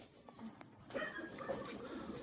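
A racing pigeon coos softly on arrival at its loft after a long derby race, low murmuring calls set against faint outdoor background noise.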